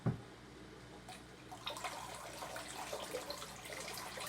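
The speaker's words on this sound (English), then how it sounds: "I'm going to pour it through my sieve" Aquarium water from a dwarf seahorse tank poured out of a jar through a sieve, a soft splash at the start followed by a quiet, steady trickling pour that builds slightly.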